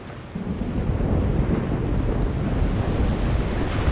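Chaos storm wind rising in The Longest Journey, a steady, loud roar of gusting wind with a surf-like rumble that holds without break throughout, no voices.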